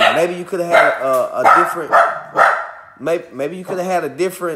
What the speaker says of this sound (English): Y'all excuse my dog. She gonna bark at anything that comes about.